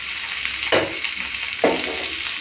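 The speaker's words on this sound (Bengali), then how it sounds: "আর 5 মিনিট মতন ভেজে নেবো, তাহলে হয়ে যাবে।" Tandoori fish frying in a frying pan over a gas flame, a steady close sizzle with two brief louder bursts of crackle, no voices.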